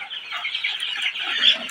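Sonali chickens cluck on a poultry farm in Natore, a short burst of busy, overlapping clucks from nearby birds.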